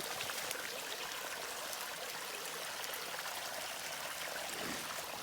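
A flowing stream on the Appalachian Trail burbles and splashes steadily with a broad, continuous wash of water sound, close by and unbroken, with no voices.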